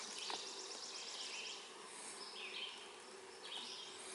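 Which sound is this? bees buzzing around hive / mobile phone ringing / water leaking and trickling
bees buzzing around hive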